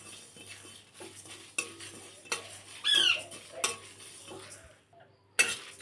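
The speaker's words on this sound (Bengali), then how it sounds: "সব মশলাগুলো একসাথে একটু ভেজে নেব" Whole spices being dry-roasted and stirred in a pan for homemade lemon oil, with a spoon scraping and clinking against the metal in irregular strokes and a faint sizzle, close and fairly quiet, with no talking.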